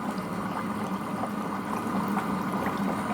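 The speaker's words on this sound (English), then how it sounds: "It's kind of bubbling." A Sensio foot spa massager churns water in a steady, continuous bubbling wash with no talk, moderately loud and unbroken throughout.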